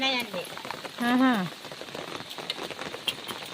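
Rain falling in Maredumilli forest, a steady soft patter of drops on surfaces close by, with a voice briefly heard over it.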